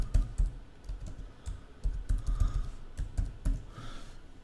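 Keys clatter on a computer keyboard while Python code is typed into a basic text editor, in quick close-up clusters of clicks with short pauses between bursts and no talking.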